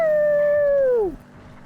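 A person imitates a wolf howl in one loud, sustained tone that holds steady and then slides down and cuts off abruptly, followed by quiet.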